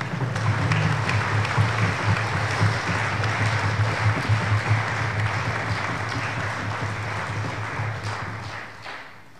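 A lecture audience gives sustained, dense applause after a talk by historian Herfried Münkler on the Great War. The clapping is loud and steady for several seconds, then thins and fades.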